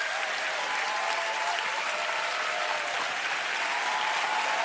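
Dense, continuous applause from a large church congregation, loud and even with no pauses, a roar of many hands clapping together.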